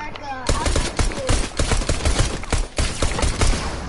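Rapid bursts of video game gunfire fill the stretch, dense automatic shots crackling loud and close with brief gaps between volleys, while players talk over it.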